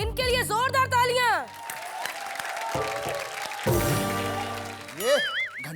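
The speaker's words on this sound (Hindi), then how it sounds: "बहुत अच्छा किया इन्होंने, इनके लिए जोरदार तालियां।" A studio audience at a televised Hindi comedy show claps and cheers loudly for a performer, a sustained wash of applause framed by bright musical stings at the start and end.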